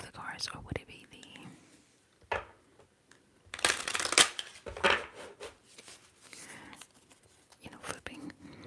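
Tarot cards being flipped and handled in a quiet close-up setting, giving soft papery flicks and snaps scattered across the moment, with a louder burst of card rustling midway and whispered talk throughout.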